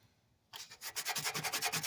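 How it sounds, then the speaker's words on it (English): Sandpaper rubbed by hand on a rusty metal suspension part of a 1986 Nissan 300ZX. After brief quiet, rapid back-and-forth scraping strokes begin, close and steady in rhythm. "My dang sandpaper is just falling apart."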